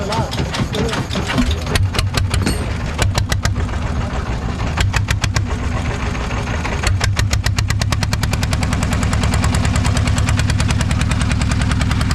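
Boat engine on a trip to Sonadia Island running at a steady mid-pitched idle with rhythmic knocking pulses, loud and close, with people talking over it throughout.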